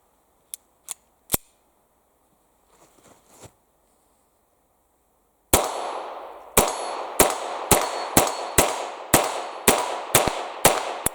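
A 1961 Star Model F Target pistol fires: three sharp cracks early, a short pause with faint handling noise, then a rapid string of about a dozen loud, evenly spaced shots that echo and ring out.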